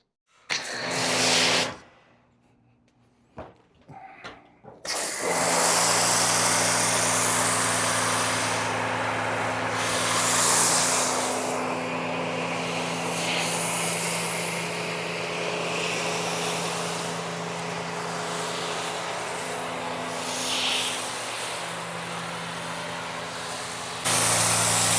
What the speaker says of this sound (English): I'm gonna add 30 ml of the L pre-wash and then start foaming it